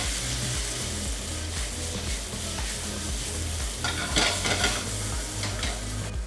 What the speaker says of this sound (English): put them in a hot pan with some oil